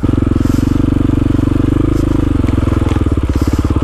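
A KTM motorcycle ridden through snow and icy ruts, its single engine chugging loud and close in a steady throbbing rhythm that shifts pitch partway through.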